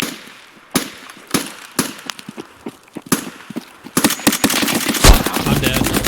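Gunfire in Escape From Tarkov, including a suppressed M7, comes as scattered sharp shots and short bursts at first. It then turns to heavier continuous firing with one loud close blast near the end.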